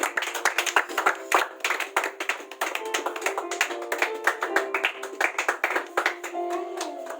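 Audience members at a school prize event clap continuously in dense, uneven hand claps, with faint tonal sound running beneath.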